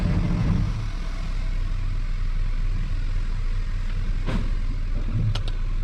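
A 2015 Chevy Malibu rolls backward off service ramps with a steady, close engine rumble at low idle and a couple of faint knocks or clicks, without any talking.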